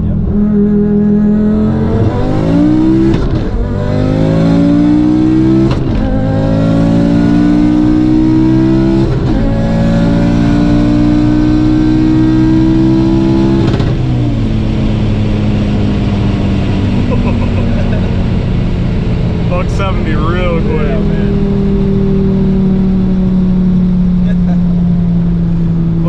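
A 1000hp Audi five-cylinder car accelerating hard through the gears, loud close engine roar rising in pitch with several sharp shift breaks and the tire spinning in second, heard from inside with passengers talking over it.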